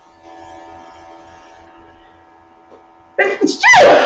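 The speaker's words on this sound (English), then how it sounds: "About to sneeze." A person sneezes once near the end, sudden and loud after a quiet stretch with a low steady hum.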